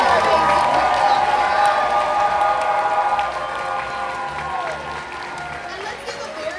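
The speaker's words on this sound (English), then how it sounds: "Give another round of applause to all of our amazing people up" An audience at a Momocon 2025 cosplay contest applauds and cheers in a large hall, dense clapping that starts strong and gradually thins out.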